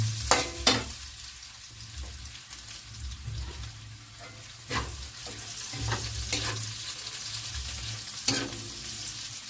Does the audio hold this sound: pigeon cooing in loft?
no